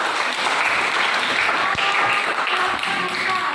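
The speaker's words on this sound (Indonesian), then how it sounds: "Ayo, kita berikan aplaus dulu" A Christian religious education class at a high school breaks into steady applause, a dense wash of clapping that stays loud and even throughout with no talk on top.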